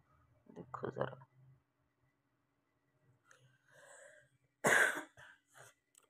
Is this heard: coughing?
yes